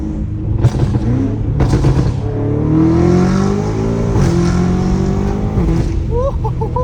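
A straight-piped BMW M5 Competition revs hard from inside the car. Loud, raspy exhaust climbs through repeated surges and gear changes with a deep, rumbling roar throughout.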